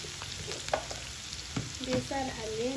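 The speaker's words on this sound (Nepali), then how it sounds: "यो गेडागुडी नपड्किन्छ हामी यसलाई भुट्दै गर्छौँ" Chow mein ingredients fry in a pan, a quiet continuous sizzle with scraping stirs and clatters, while a voice speaks softly over the cooking.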